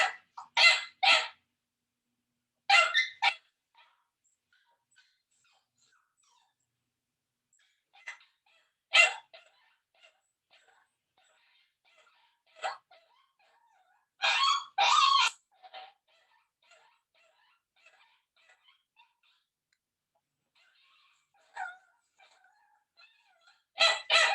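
A puppy left alone after its owner leaves barks in short, scattered bursts with pauses between, high and strained, sometimes a single yelp and sometimes a quick double bark.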